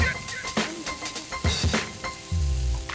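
Dry-aged beef sizzles on a Korean barbecue grill in a restaurant, a close, crackling hiss punctuated by sharp clicks and taps of tongs and utensils, swelling louder toward the end.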